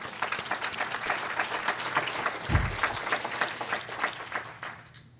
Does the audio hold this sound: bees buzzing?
no